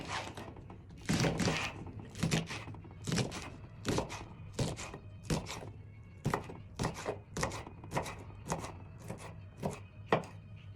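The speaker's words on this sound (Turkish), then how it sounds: "biberlerimi doğradım." A knife chops peppers steadily on a cutting board, about a dozen crisp, evenly spaced strikes, close and clear with no talking.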